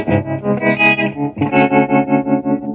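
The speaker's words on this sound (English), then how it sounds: "that's for my overdrive sound, I mean my tremolo sound." Electric guitar through a tremolo patch on a Digitech unit, loud sustained chords that throb in a steady pulsing volume wave, with a brief break before a new chord rings on.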